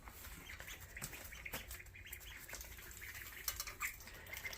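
Baby ducks on a homestead peeping and chirping in small high-pitched bursts, faint and scattered over a low background rumble.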